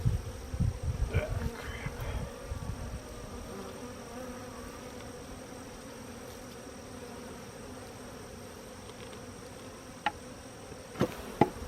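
Bees from a hive knocked over by fighting bulls buzz in a steady, faint drone throughout, with scattered thumps and rustles near the start and a few sharp knocks at the end.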